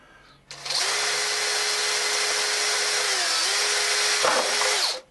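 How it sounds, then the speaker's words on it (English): A power drill spots holes for small M3 screws in a mini lathe workshop, spinning up with a sharp start and running loud and steady for about four seconds, its pitch holding a constant whine before it cuts off. "Let's speed the drill up."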